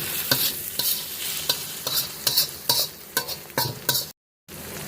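Spices with cumin powder fried in a pan, stirred in a regular rhythm of roughly eight sharp scraping strokes over a continuous sizzle, with a brief gap of silence near the end.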